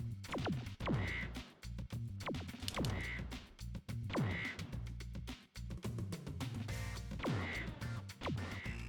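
Birds in the video game Spyro: Year of the Dragon, repeated squawking, quacking calls in regular bursts roughly every second and a half over game sounds, fairly loud throughout.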